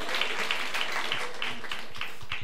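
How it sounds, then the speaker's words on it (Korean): Audience applause at a church service, a steady wash of many hands clapping throughout, moderately close, with faint voices mixed underneath. "박수 한번"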